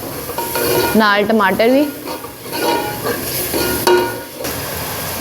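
Ginger, onion and green chilies sizzle loudly in a pan for a ginger curry, with a steady hiss and a spoon scraping and stirring close by, while someone speaks briefly over it.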